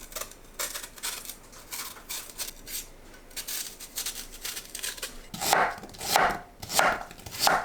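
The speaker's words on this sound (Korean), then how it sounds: "배는 껍질과 씨앗을 제거하고 큼직하게 썰어주세요." A knife chops firmly through a peeled, seeded pear on a cutting board in steady, repeated thunks that grow heavier and louder toward the end.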